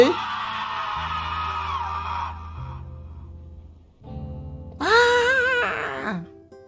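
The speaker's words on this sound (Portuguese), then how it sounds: "mesmo que tudo não saia num grito, eles podiam gritar mesmo assim" Several characters in the video game Sally Face scream and yell together in loud, overlapping outbursts, followed by a higher, wavering shriek near the end.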